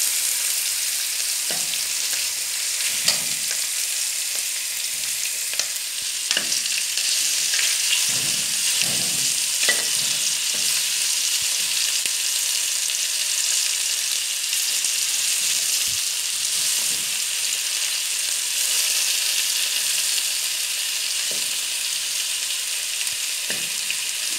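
Garlic frying in oil for humba, a strong continuous sizzle and hiss with occasional soft stirring taps and scrapes, steady and close with no talking.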